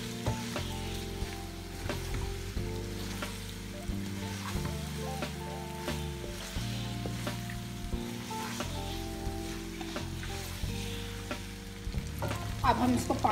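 Chicken spaghetti macaroni pasta stirred in a pan, giving a steady sizzle with repeated scraping strokes across the whole stretch, close and moderately loud with no talking.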